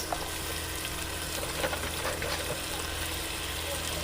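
Garlic, green chilies and chili flakes fry in oil in a pot, giving a steady, dense sizzle that holds at an even level from start to finish.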